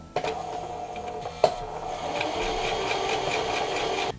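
A sewing machine stitches through a very thick layer of fabric, a brief start with a sharp clunk, then a steady, fast mechanical whirring run of stitching heard up close and alone.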